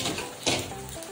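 Chinese fried rice sizzling in a pan with scrambled egg, a short burst of frying hiss with a scrape of stirring in the middle, close and moderately loud.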